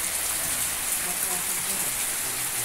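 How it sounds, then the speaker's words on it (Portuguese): Steady rain pouring down, a dense continuous hiss of drops on surfaces, with faint low sounds beneath. "Agora eu vou mostrar a vocês a chuva, viu?"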